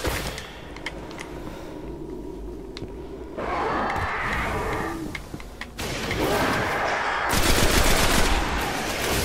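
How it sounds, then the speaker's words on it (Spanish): Rapid bursts of video game gunfire, including automatic fire and scattered shots, rattle over a busy, noisy game soundscape, getting denser and louder toward the end, with no clear talk over them. "he fallado todos los tiros que he pegado"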